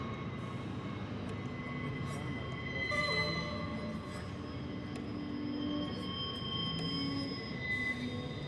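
A train passing near the Tehachapi Loop, a steady loud rumble of rolling cars with high metallic wheel squeals rising and fading throughout, continuous and close.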